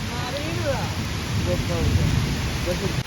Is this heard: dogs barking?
no